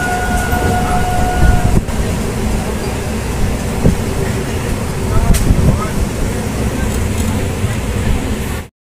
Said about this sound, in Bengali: অবশেষে আমাদের ট্রেন নামখানা স্টেশনে ঢুকতে চলেছে।